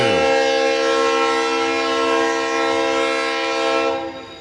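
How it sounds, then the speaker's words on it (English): A train horn blares loud and steady for about four seconds behind the seating of a high school baseball field, its chord holding then cutting off abruptly, with low rumble underneath. "There is a train coming just down the left field line behind the seating"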